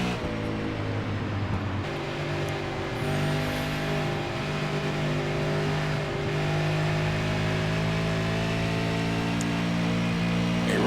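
Race cars in a short-track sim racing video game, several engines droning and revving together at steady volume down the backstretch, continuous and close with no talk over it.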